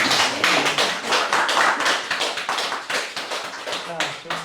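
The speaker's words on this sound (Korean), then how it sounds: "박수 한번 주시죠." Audience clapping at a gallery artist talk in a dense, steady patter of many hands, loud and close, with a voice speaking over it.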